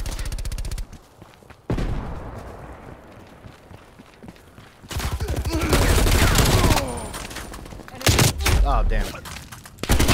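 Gunfire from a Black Ops Cold War match: loud bursts of automatic fire, several sharp cracks and rattling volleys, with footsteps and someone talking over the action.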